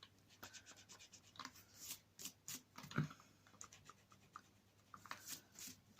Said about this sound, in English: I need to go over with my eraser, I think, to try and get that off